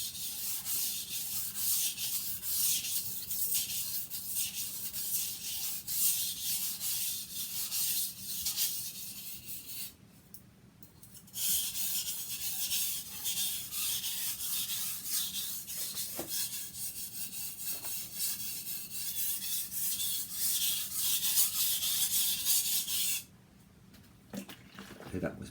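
A knife is sharpened on a whetstone with light, moderate pressure, making a continuous near, hissing scrape of steady back-and-forth strokes. The strokes pause briefly twice and are fairly quiet.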